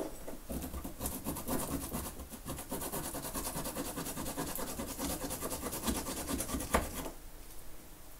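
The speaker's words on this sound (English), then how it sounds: "I have a little grater here. So I'm just going to grate some ginger." Fresh ginger rubbed on a small hand grater makes a continuous close rasping scrape with a quick back-and-forth rhythm for about seven seconds, then stops.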